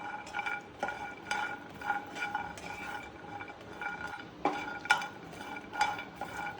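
Cashews roast in a pan, turning brown as they are stirred, with repeated light clinks and scrapes of a spoon against the pan at an uneven rhythm and a soft background hiss, with no talk.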